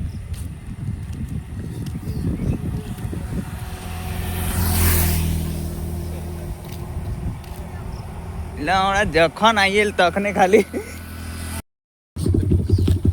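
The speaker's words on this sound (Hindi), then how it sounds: "गाड़ी का साउंड आप सुन ही सकते हैं।" A motorcycle engine idling and revving during an outdoor bike shoot, a steady rumble with a rising rev near the middle, while someone talks over it and a brief dropout occurs near the end.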